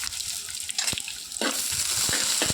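Green chillies and garlic frying in hot oil as the base for a Kerala fish curry: loud, bright sizzling with a few sharp stirring clacks, the sizzle swelling as ingredients hit the pan.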